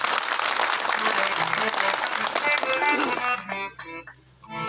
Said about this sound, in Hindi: चाहूंगा जोरदार ताली से इनका सम्मान हो।